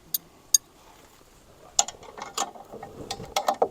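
A bolt is tightened on the roller guides of a Norwood HD36v2 sawmill, heard as quiet clicks and short ratcheting bursts of a wrench working in uneven spurts.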